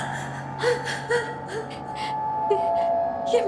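A woman whimpers and gasps in short, breathy sobs, several faint catches spread across a tense, quiet room with a steady low hum beneath them.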